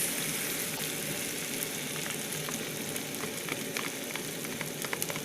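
Eggs frying in a pan for scrambled eggs, a steady close sizzle and crackle with scattered pops throughout and no talking.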